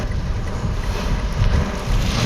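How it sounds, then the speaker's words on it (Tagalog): Heavy rain and strong wind roar steadily around a car being driven through a storm, a dense, loud, unbroken rushing noise with no voices. "Yan po oh, ayun oh, napakalakas po ng ulan."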